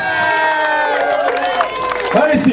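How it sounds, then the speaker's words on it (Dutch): A crowd cheers and claps for an Olympic table tennis athlete, with dense overlapping shouts, whoops and applause at steady volume, and a voice talking over the noise. "geef even een groot applaus voor onze Olympische sporter"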